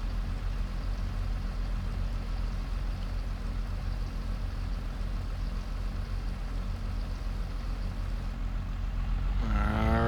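A tractor engine in Farming Simulator 22 runs steadily with a low, constant drone throughout, loud and alone, with a brief rising whine near the end.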